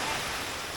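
Waterfall at Palasanon Falls, a steady broadband rush of falling water that stays loud and continuous through the short moment, with no distinct events.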